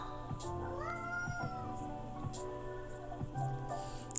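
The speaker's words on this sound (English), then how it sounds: "Cats." A little stray kitten, collarless, meows repeatedly in short rising calls with a gliding tone, close by, over a steady background hum.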